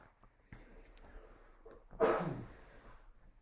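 A single sharp sneeze bursts out close by after a few quiet breaths and small rustles, then fades into a soft exhale.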